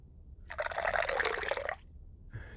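Sake poured from a bottle into a small guinomi cup, a steady liquid stream lasting about a second and a half, close and fairly quiet, ending abruptly with a faint trailing sound.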